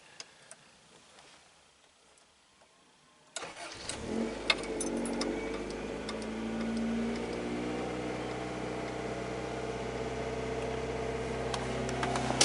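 A 1989 Toyota Tercel with a variable venturi carbureted engine cold-starts after a few seconds of near silence, then settles into a steady, fairly loud idle with faint ticking over the running engine.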